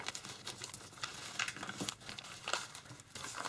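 Square origami paper is unfolded and refolded into a windmill base while a square interlace box is folded, giving close, irregular crinkling and rustling bursts.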